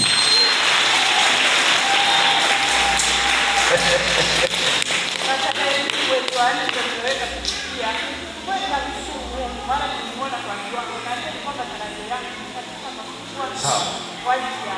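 An audience claps in a dense, crackling burst that gradually thins into scattered claps, with a voice speaking over it.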